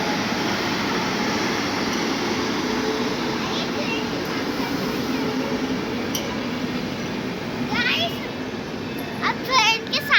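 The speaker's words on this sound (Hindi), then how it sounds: "तो आ गई है ट्रेन।" A train pulls into an Indian railway station with a steady, loud rumble, and high metallic brake squeals rise near the end while people and children talk nearby.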